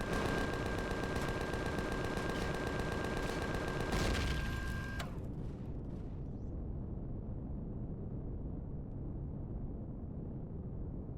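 Rapid gunfire from shooting mini turrets in the game Empyrion Galactic Survival, a dense mechanical rattle with a steady whine, loud for about five seconds before cutting off to quiet low rumble.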